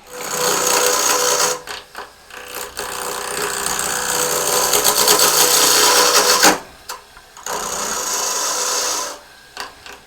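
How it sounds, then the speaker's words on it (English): A 3/8 inch bowl gouge scrapes and shaves mesquite wood on a spinning lathe in long, rough, continuous passes, pausing briefly between cuts. "I'm going to use a 3/8 inch bowl gouge."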